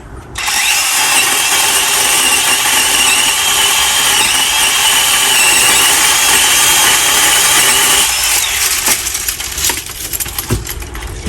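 A DeWalt 20V MAX cordless pole saw runs steadily at full speed while trimming a branch, a loud continuous motor whine that holds for about eight seconds before easing off into a few clicks and rattles.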